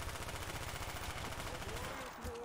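Wall-bought guns fire in a zombies video game as a fast rhythmic stream of shots, fairly quiet, under a faint background mix.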